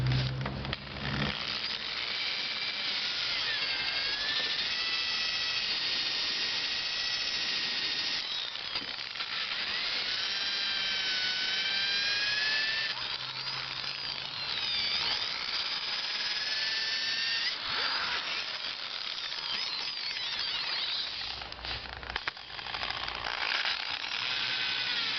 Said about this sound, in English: one of these wire brush wheels on a drill. Try and knock some more of that rust off.